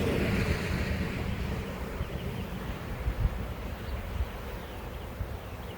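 A honeybee swarm being moved into a new insulated Layens horizontal hive gives a soft, continuous buzzing hum with a wind-like rush. The sound stays close and steady, with a few light bumps and no talking.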